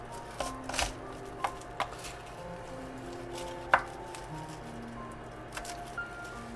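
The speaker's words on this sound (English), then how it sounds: "Cut the garlic right down that long axis." A knife chops through a garlic clove lengthwise on a cutting board, giving a handful of sharp, separate close-up knocks spaced irregularly over a quiet kitchen background hum.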